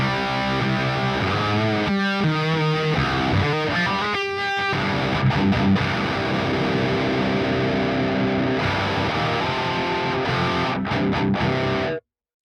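A distorted electric guitar through a DS-1 distortion pedal plays sustained, gritty, nasal chords and a few bent notes, loud and upfront, then cuts off abruptly at the end.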